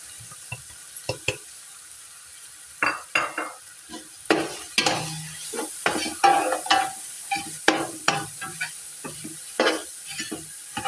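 Cabbage being stir-fried with black pepper and salt for chicken Manchurian and fried rice, repeated rhythmic scraping and tossing strokes over a light sizzle, close and fairly loud, with no voices.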